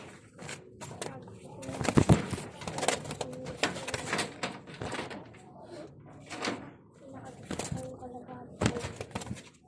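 Pigeons coo in soft, throaty bursts close by, mixed with scattered knocks and shuffling sounds, with people talking in between.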